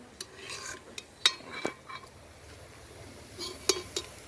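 Small rice-flour wadi are stirred and roasted in a hot pan, a spoon scraping and clinking against the metal in sparse, faint taps over a quiet background.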